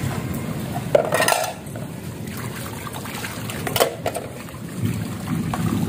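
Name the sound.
washing dishes outdoors in rain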